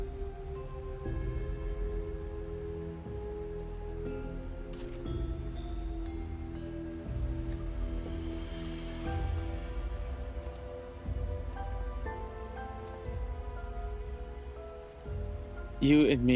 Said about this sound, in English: It all starts raining and thundering at like the perfect time.